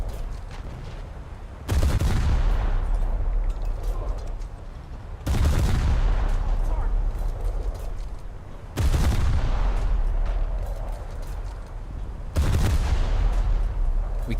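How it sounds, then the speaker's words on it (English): Naval guns aboard a heavy cruiser in War Thunder boom out in four heavy salvos spaced several seconds apart, each a sharp loud blast trailing into a long rumbling decay. "We can't see them, but our shells can still hit them. So keep shooting."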